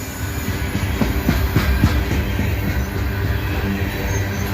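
Freight train cars roll steadily past up close, a continuous heavy rumble broken by rhythmic wheel clicks and the occasional thump of a flat spot on a wheel.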